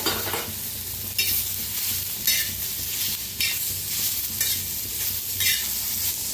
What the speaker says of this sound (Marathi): हलकासा कांदा भाजायला लागलेला आहे, त्याच्यातच टाकूया टमाटर आणि कोथिंबीर, ते बी भाजून घेऊया।